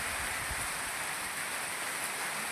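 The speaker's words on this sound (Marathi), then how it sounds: "पाऊस चालू" Steady, dense rainfall hisses without pause, an even wash of drops close by.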